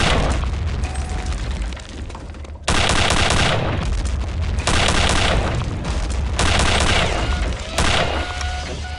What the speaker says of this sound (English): The rockets hitting behind me are killing me.